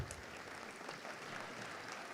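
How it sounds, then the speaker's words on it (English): Sustained audience applause at a school opening-day assembly: a dense, even wash of clapping from a large crowd, heard at a distance and fairly faint, with no break or peaks across the short stretch. "We're just going to keep clapping the whole time"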